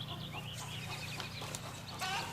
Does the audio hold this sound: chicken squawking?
yes